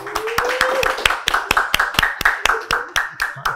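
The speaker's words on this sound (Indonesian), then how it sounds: "semoga sukses tepuk tangan buat John Yaben." Distinct, sharp hand claps in a regular rhythm, close and fairly loud, roughly a dozen separate claps at an interview show, with a short voice heard at the start.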